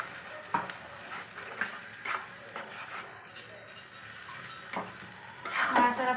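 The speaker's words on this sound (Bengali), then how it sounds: "নাড়াচাড়া করবো।" A spatula stirs a puti fish masala in a pan, with repeated metallic scrapes and clinks over a low sizzle, growing louder near the end.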